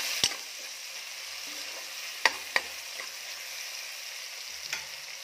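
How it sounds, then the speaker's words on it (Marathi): Tomatoes sautéing and sizzling in a pan for a Malvani-style chicken curry, with a steady frying hiss and a few sharp clicks of a spoon stirring against the pan, no voices. "तर छान हे परतून घेऊया."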